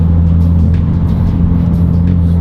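A tuned, modified BMW F82 M4 with a Valvetronic exhaust, set to M2 mode, idles with a loud, steady low rumble close by, even and unbroken throughout.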